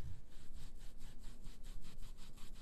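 Repeated back-and-forth rubbing of deColourant into fabric by hand during a mixed media demonstration, a soft rhythmic scrubbing of about ten strokes, steady and close with no talk.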